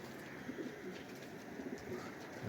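A pigeon coos faintly a few times in the open air on a rainy, overcast day, set against a steady background hiss.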